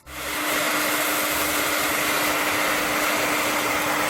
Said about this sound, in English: you take your blow dryer, you put it on the hottest setting, and blow dry it really close